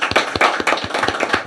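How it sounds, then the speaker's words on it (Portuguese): A small church gathering claps to welcome guests, with distinct, fairly close hand claps in an uneven rhythm over a short burst. "Uma salva de palmas pra ele."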